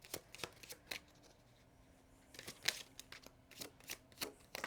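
Oracle cards are shuffled by hand in a quiet room, giving a series of soft, brisk riffling and slapping bursts, irregular and close, with short pauses between them and no talking.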